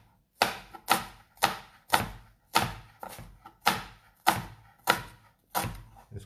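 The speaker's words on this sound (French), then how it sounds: "Ça sert à rien de couper des gros morceaux de poireau." Knife finely chopping leek on a board, about ten crisp, evenly spaced cuts close up, each a sharp thud with a brief decay, no talking.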